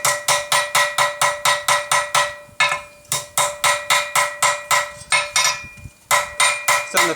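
Ball peen hammer strikes denting a hot metal belt buckle at finishing heat, a steady run of about twenty sharp, ringing close blows in an even rhythm with two brief pauses, no talking.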